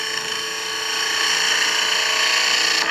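A skew chisel slices across spinning wood on a lathe, giving a steady close hissing, whirring cut that builds slightly and stops abruptly at the end.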